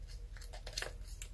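A blade cuts through paper for a 3D Christmas card in a few quick, close snips and rasps against a quiet background.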